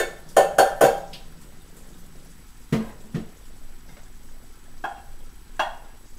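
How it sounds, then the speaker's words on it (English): Tortellini being drained in a pot at a home stove, several loud metallic clanks of the pot and lid up front, then scattered knocks and softer clatters spaced apart. "I'm going to drain my pasta."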